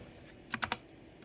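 A computer keyboard in a Windows user-account lab as the Alt Enter shortcut is pressed: three quick, close key clicks in a short burst over a quiet background, no talking.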